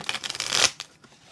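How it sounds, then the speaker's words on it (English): A deck of tarot cards is riffled and shuffled by hand, a quick flurry of crisp papery flutters ending in a snap, then a few light taps and soft slides in a quiet room. "A little more shuffling."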